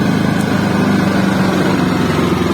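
An ITC Power GG 65EI inverter generator (6.5 kW, 389 cc engine) runs in economy mode with a steady, even engine drone and constant broadband hum, loud and close with no change in pace.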